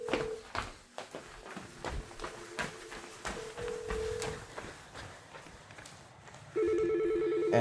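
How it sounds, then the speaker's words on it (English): A 3CX VoIP office phone in a kitchen starts trilling steadily near the end of the clip, after a stretch of soft clicks and room movement. "And as you can see, the kitchen is ringing."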